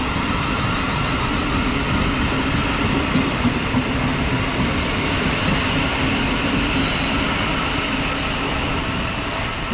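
A Thameslink Class 700 electric train unit runs past at Kentish Town with a steady, loud, close rumble and rolling wheel noise that holds throughout without letting up.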